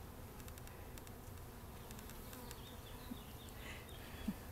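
Honeybees buzz steadily around an open beehive during an inspection, a soft continuous hum with a few louder passes close by and no talking.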